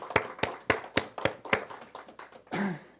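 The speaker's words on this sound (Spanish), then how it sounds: "Un aplauso para todos ustedes que están acá presentes." At a church ministry gathering, a handful of sharp hand claps land in an even rhythm, fairly faint and sparse rather than a full crowd, followed by a short muffled noise.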